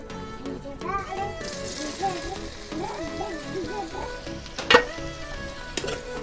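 Dhokla pieces being stirred with masala, salt and turmeric in a hot pan, a steady sizzle with scraping stirs and one sharp metallic knock, under near-constant talking and children's voices in a village home.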